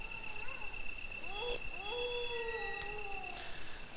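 Dogs howling in the Resident Evil Director's Cut video game: several long, rising and falling howls overlap and trail off, fairly quiet over a constant low background hum.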